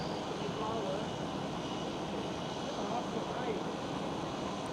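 An airliner rotates off runway 18 Left, the Aalsmeerbaan at Schiphol Airport in Amsterdam, as a broad, distant jet engine roar that holds steady across the whole stretch, heard alone without talk.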